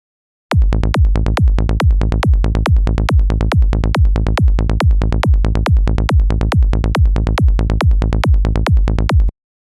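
A rolling, punchy psytrance synth bass from a Serum preset pulses in a fast, steady sixteenth-note rhythm, loud and dry with no other sounds.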